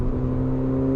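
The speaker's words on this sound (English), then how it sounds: "this is one of the best sounding 4-cylinders out there" Mercedes-AMG GLA 45 four-cylinder engine held at a steady rev, a loud, close, buzzy drone with strong low harmonics sustained for about a second, no voices.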